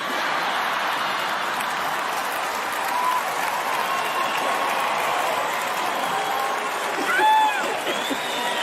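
Steady audience applause fills a stand-up comedy show venue, a dense continuous wash of clapping hands with faint crowd murmur and a few brief whoops near the end.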